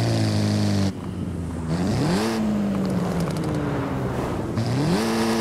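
Ford Focus ST hot hatch in Forza Horizon 5 accelerating hard through several gear changes, its loud droning engine dropping and climbing again after each shift, with faint anti-lag crackles popping from the exhaust.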